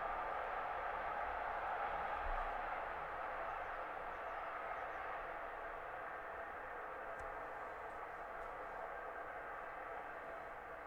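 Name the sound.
train passing by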